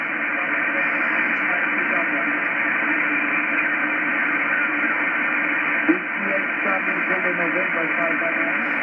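A faint HF amateur radio station from Madeira Island, Portugal comes through as steady band-limited static and hiss, with any voice barely discernible beneath the noise for the whole stretch.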